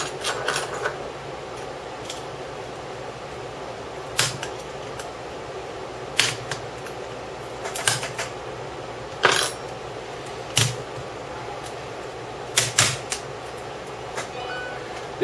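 Sharp snapping and cracking pops break out every second or two as an old keyboard is pried out of a MacBook Pro A1425 laptop, over a steady hiss.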